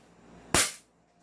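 An airsoft Glock 17 pistol fired once at close range, a single sharp loud crack that decays quickly into quiet, with no talking.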